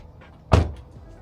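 The door of a 2014–19 Corvette C7 closes in a single solid thump that is short and fairly loud, set against faint background noise.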